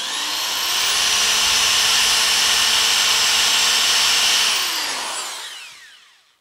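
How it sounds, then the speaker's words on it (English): A steady, high-pitched power drill whine grinds through a metal pipe for several seconds, then winds down and fades to silence. "eventually you'll drill a hole through the pipe"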